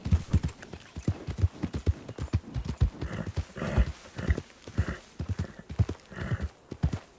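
Horses in a video game trot along with a steady, rapid clip-clop of hooves, broken by occasional whinnies, close and clear with no talking.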